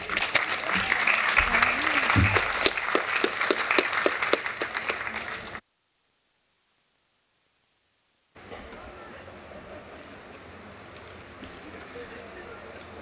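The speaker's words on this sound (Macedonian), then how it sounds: "Еден аплауз за Билјана Црвенковска." An audience at the Skopje literary festival Druga Prikazna in 2020 applauds author Biljana Crvenkovska with a loud, dense burst of clapping for about five seconds. It cuts to silence, and a quieter room ambience follows.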